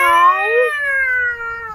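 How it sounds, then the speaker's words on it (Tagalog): A cat lets out a long, loud, drawn-out meow, close by, with a second fainter cry overlapping at the start. "huwag kayo maingay dyan mga pusa ha"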